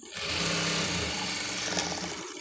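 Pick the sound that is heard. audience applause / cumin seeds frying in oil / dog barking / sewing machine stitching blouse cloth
sewing machine stitching blouse cloth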